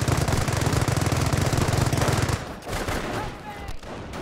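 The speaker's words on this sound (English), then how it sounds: "Engineers under fire!" Rapid automatic gunfire from the Company of Heroes video game, a loud, dense burst of shots that runs for about two seconds, then breaks into scattered distant pops and battlefield rumble.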